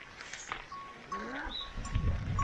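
Sheep bleat faintly in the hills of Rukum, with thin drawn-out calls at some distance. Low rumbling and outdoor noise sit beneath them.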